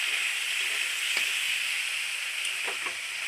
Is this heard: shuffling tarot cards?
no